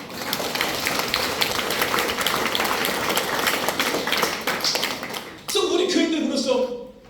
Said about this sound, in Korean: 장모님 박수 한번 해요